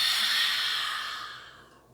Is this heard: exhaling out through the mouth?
yes